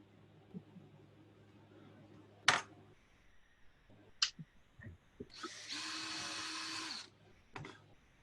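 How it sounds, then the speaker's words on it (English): A power drill bores holes through a stack of paper for Japanese stamp binding, a continuous whirring burst of about two seconds after several sharp taps and knocks, fairly close and alone. "I'm going to drop that in there and drill through"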